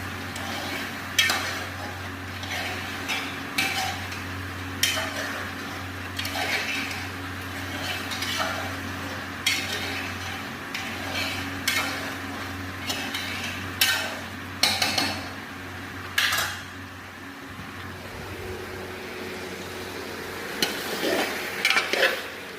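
Chicken curry stirred and lightly fried in a pan, with a steady soft sizzle beneath repeated scraping and clinking strokes of a utensil against the pan at an irregular rhythm, close by, with no talking.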